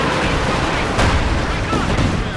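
Dense, continuous battlefield gunfire and artillery booms from Company of Heroes 2 at Stalingrad, with loud blasts around the one-second mark over a steady roar, and a voice shouting faintly beneath.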